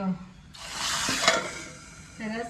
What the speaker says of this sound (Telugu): తాలింపు వేసేసింది